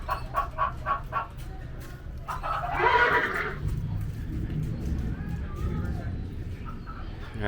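Chickens cluck in a farm enclosure at Magic Kingdom, with a burst of squawking in the middle and more clucking around it, mixed with nearby speech and crowd murmur.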